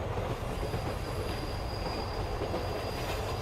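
A train runs on rails in a steady, loud rumble with a faint high wheel squeal and a hint of clickety-clack. It is heard close, as if from aboard, with no voices.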